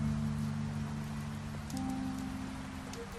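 Rain falling in the video game The Wolf Among Us, a steady soft patter on surfaces beneath a low sustained music tone.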